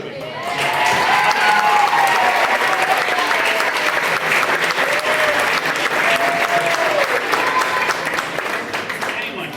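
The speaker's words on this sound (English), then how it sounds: "So, can we have a round of applause for Kate?" A crowd at a high school soccer banquet claps in sustained, steady applause for several seconds, loud and even, with some voices faintly mixed in.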